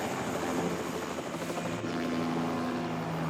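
Helicopter flying in a movie scene, a dense, steady rotor and engine roar that fills the whole stretch at fairly loud level, with no talk.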